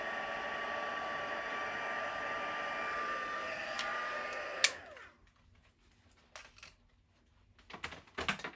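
A sewing machine hums steadily while stitching a paper box card, then stops abruptly halfway through, followed by a few soft handling taps and rustles close by.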